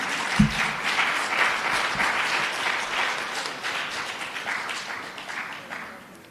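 An audience applauds the parish organizers at a senior citizens week launch, a steady, dense wash of many hands clapping from start to finish before slowly thinning.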